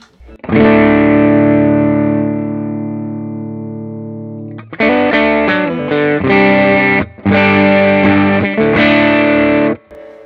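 Electric guitar through the low-gain side of an overdrive pedal: a long sustained chord ringing out and slowly fading, then several crunchy strummed chords with short gaps, loud and mildly distorted.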